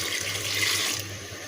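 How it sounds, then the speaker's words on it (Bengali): Hot water pours into a pot of cooked lentils in a brief, loud, close gush that tapers off at the end. "এখন আমি গরম পানি দিয়ে দেবো ফুটায় রেখেছি সেই পানি দিয়ে দেবো"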